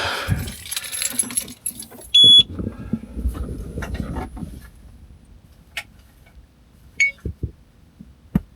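Car keys jangling close by as the ignition is turned on, followed by a couple of short electronic beeps and faint clicks in a quiet car interior.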